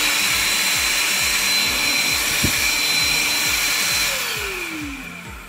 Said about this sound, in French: Donc l'aspirateur est bruyant